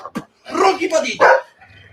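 A small dog gives a few quick, sharp yips and barks close by, in short bursts with brief gaps between them.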